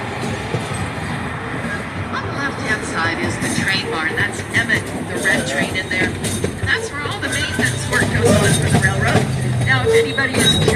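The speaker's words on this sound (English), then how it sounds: "our little train engines, they are powered by regular gasoline" A gasoline-powered miniature train runs on a zoo ride, giving a steady mechanical rumble with rattling and clacking. Talk and crowd noise continue throughout.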